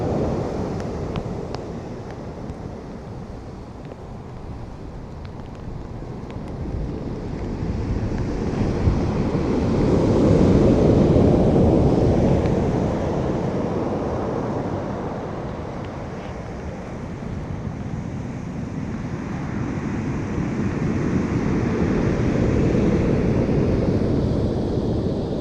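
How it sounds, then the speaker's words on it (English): Waves breaking and washing back over a pebble beach on the Welsh coast, a steady broadband rush that swells and recedes in slow surges, with wind buffeting the microphone throughout. "I think it's the noise when the waves go back, I love, across the pebbles."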